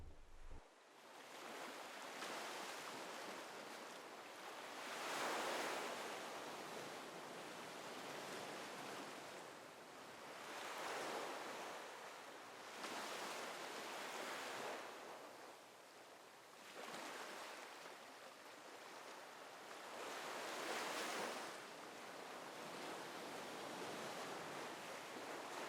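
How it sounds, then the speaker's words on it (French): Ocean waves breaking on the shore, soft rhythmic surges of rushing surf swelling and receding roughly every four seconds, steady and fairly distant, with no voices. "on continue à écouter le son des vagues"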